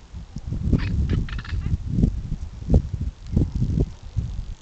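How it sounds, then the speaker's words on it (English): A black korhaan, a chicken-sized bustard, calls while flying past in bush country, giving a run of harsh, rhythmic croaking bursts at close to moderate range with no talk. "One of our local neighbors flying past, the black Korhan."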